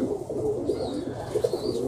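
Pigeons on a farm give repeated low, throaty coos close by, rolling continuously with soft bird sounds behind them and no talk.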